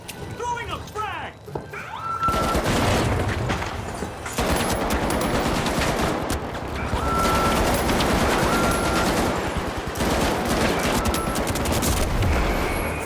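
Gunfire in The Finals, heavy sustained automatic fire with overlapping bursts over several seconds, loud and close, with a brief quieter gap near the start and talk mixed in.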